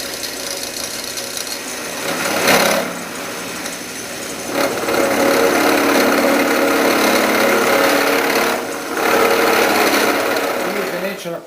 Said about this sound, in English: a router type bit, but I'm using it in the drill press